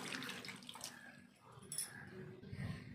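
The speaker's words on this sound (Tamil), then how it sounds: "இது கூட கொஞ்சம் தண்ணி ஆட் பண்ணிக்கலாம்." Quiet splashing of water being poured into a pressure cooker, close by and brief, with faint background noise.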